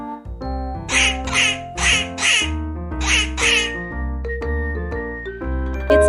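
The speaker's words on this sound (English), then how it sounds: "It's a duck." Duck quacking in a children's animal sound guessing game, a run of loud nasal quacks in bursts over a steady musical backing.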